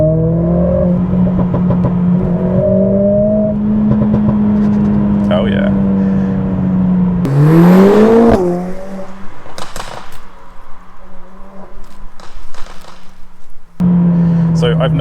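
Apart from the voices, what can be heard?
modified car exhaust revving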